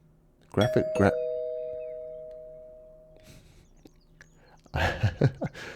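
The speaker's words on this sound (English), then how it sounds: "I like the stock doorbell ring there." Stock doorbell in the video game Tormented Souls rings a clear two-tone chime that hangs and fades for a few seconds, followed by a person speaking.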